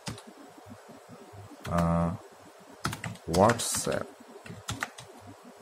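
Keys clatter in short bursts as a search is typed on a keyboard, with someone speaking between and over the taps.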